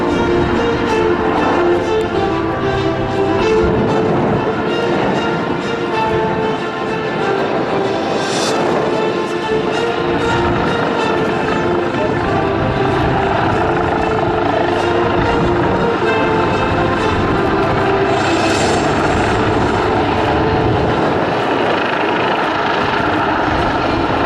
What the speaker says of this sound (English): An Italian Air Force helicopter from the 15th wing in flight